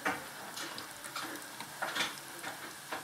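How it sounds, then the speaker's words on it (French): Soft, steady sizzling and bubbling of braided griweche dough frying in hot oil, fairly quiet, with occasional small pops. "Je le plonge dans la friture."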